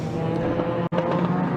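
The number 46 Mini Challenge Clubsport race car roars past at Donington Park, a loud continuous engine drone with a brief sharp dropout mid-way, amid trackside noise.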